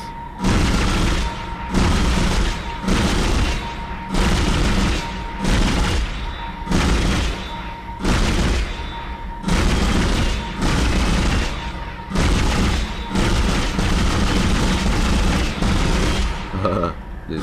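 Rapid bursts of video-game gunfire from Dead Space, repeated volleys with short gaps between them, loud and close, with booming thuds among the shots and no talk.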